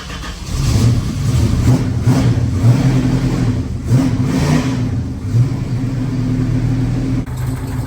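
A 426 Hemi V8 in a 1970 Plymouth Hemicuda runs loud and close at a lumpy, uneven idle, with a steady low rumble and slight surges throughout and no talk over it.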